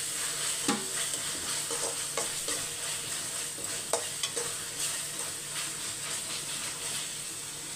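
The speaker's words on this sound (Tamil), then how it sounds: "ஒரு 5 நிமிஷம் நல்லா வதங்கட்டும்" Onions and ground masala for chicken biryani sautéing in a pan, a continuous near sizzle broken by repeated soft scrapes and taps of a spoon stirring, with no voices.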